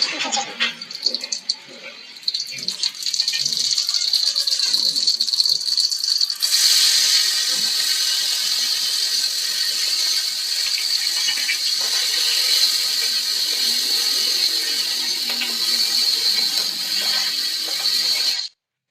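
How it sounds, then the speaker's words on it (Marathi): A kitchen mixer grinder grinds a cooled roasted spice paste for a pea curry, starting with short rattling bursts, then running as a loud, steady high whine for about twelve seconds before stopping abruptly. "हे सर्व थंड करून मिक्सरला बारीक याचं वाटण करून घेऊया"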